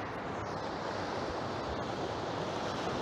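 Sea waves crash over the sea wall at Ness Point, Lowestoft, at night, a continuous broad roar of surf with wind buffeting the microphone, no voices.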